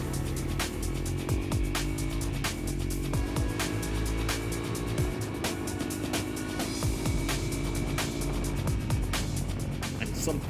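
Enduro motorcycle engine droning steadily along tight, winding roads in Northern Thailand, its pitch rising and falling through gear changes, with loud wind buffeting and scattered clicks throughout.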